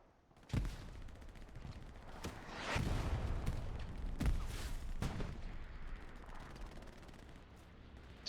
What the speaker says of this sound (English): So this is Axis artillery.